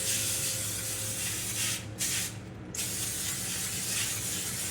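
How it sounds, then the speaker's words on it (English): A continuous close hiss of cooking oil spray onto a pan runs throughout, briefly pausing once before resuming, with no talking. "spray it or cover it with a light coating of oil of your choice"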